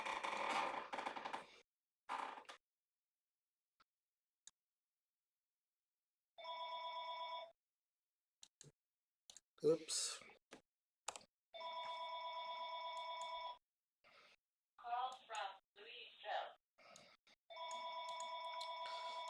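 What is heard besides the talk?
telephone ringing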